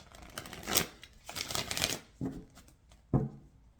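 A deck of cards being shuffled up close, several rapid riffling bursts followed by two short sharp snaps as the deck is squared, with no talking.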